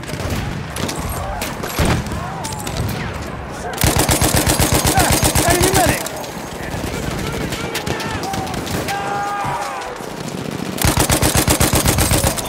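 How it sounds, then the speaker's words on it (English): Sustained bursts of machine gun fire in a Battlefield 1 Conquest battle at Achi Baba, rapid loud rattling volleys with pauses between bursts, amid shouted voices and battlefield clatter. "Enemy machine gun!"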